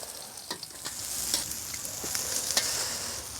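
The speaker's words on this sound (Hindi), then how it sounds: "और ऐसे ही फ्राई करेंगे।" Fish frying in hot oil, a quiet, steady sizzle dotted with small crackles and pops, heard alone.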